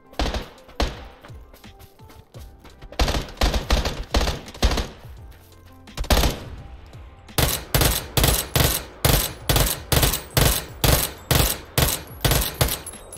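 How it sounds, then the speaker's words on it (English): Rapid bursts of gunfire from a video game crack repeatedly, starting as scattered volleys and then settling into a steady, evenly spaced string of loud shots, with no talk over them. "I hear gunfire."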